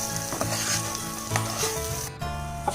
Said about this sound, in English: After adding all of the onions and tomato paste, I'm then going to fry this for about 2 minutes.